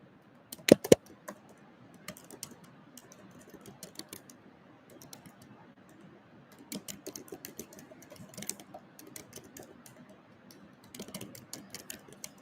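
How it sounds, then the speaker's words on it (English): Computer keyboard typing at a desk during a business marketing and sales session, a quiet run of light key clicks in irregular bursts with brief pauses, one sharper clack near the start. "I'm also typing in there."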